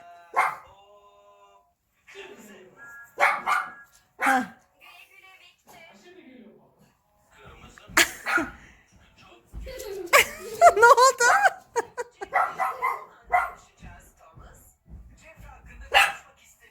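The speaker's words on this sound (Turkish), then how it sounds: "Havlayıp duruyor" A dog barks in short, sharp bursts at close range, interspersed with people talking and some quieter whimpering sounds.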